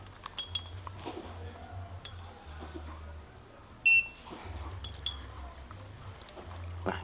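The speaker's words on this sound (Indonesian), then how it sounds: "Bentar, saya nyalakan avometernya." A digital multimeter being switched on gives a single short, sharp electronic beep near the middle, set against a quiet room with faint low hum and small handling clicks.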